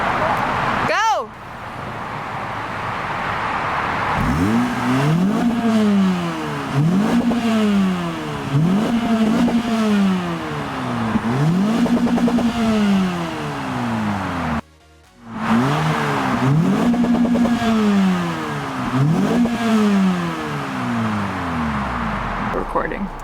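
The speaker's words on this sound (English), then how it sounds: "And I'll do some revs too. So we'll start out with the revs first." A Toyota Celica GT-S engine is revved repeatedly from inside the car, each rev rising and falling in a regular series of loud, close climbs, with a brief cut midway before the revving resumes and a voice speaking over it.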